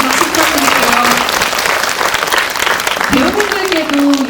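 A film audience at a post-screening talk with the cast and director claps loudly and continuously, dense steady applause filling the room while a voice speaks briefly over it.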